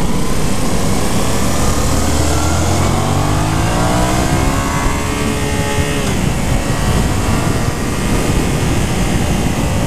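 A 2015 Yamaha FZ-07 motorcycle accelerates hard, its engine note climbing through the gears in rising sweeps, loud and close over strong wind rush.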